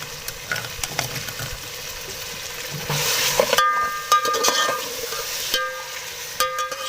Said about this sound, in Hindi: अब इसको हमने भूनना है लहसुन का कच्चापन ख़त्म होने तक